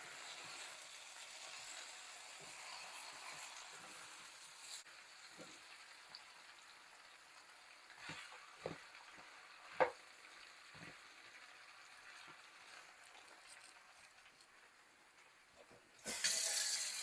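Bacon frying in a skillet gives a steady, soft sizzle and crackle throughout, with occasional louder pops and spatters and a sharp burst of hissing near the end, close up and with no talking.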